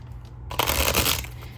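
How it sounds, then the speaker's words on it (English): Tarot cards being shuffled, a short soft riffle of paper rustling after a brief quiet start, close and alone. "I'm going to be live shuffling for you."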